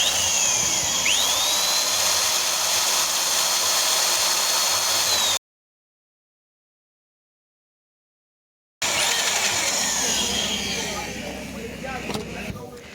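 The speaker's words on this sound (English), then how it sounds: "So we are going to drill in using a 4mm drilling bit here." A 4mm bit drilling into a broken 12mm bolt gives a loud, steady high-pitched whine close up. It cuts off abruptly for a few seconds, then resumes and gradually eases.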